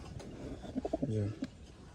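Pigeons coo softly in a pigeon coop, with a short burst of low, throaty coos in the second half against quiet background hum.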